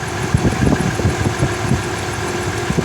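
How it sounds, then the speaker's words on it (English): A Ford F150 engine idles close by with a rapid, faint rhythmic chirping from the camshaft synchronizer, tied to a P0340 fault, repeating over the steady hum. "that's pretty much the chirping sound of the synchronizer"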